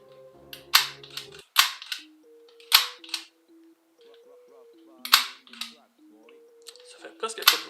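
Tokyo Marui MK23 airsoft pistol fired with a silencer attached: several soft, snappy pops at irregular intervals, close up, with someone speaking quietly between the shots.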